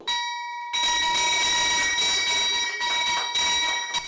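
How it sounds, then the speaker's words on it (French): The opening bell rings at the BRVM stock exchange headquarters for the first trading quotation, a loud, sustained electric bell tone that starts after a brief quieter moment and rings continuously. "La cloche de la première cotation a retenti ce matin au plateau au siège de la BRVM"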